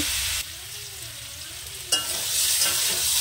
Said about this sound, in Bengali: তরকারিটাকে সুন্দর করে একটু কষে নেব।